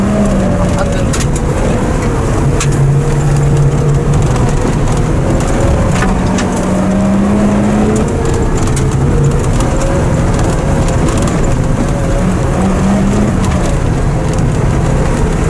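A Mitsubishi Pajero Mini on the move gives a steady, loud engine and road drone that holds unbroken throughout.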